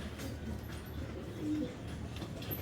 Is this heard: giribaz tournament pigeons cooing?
yes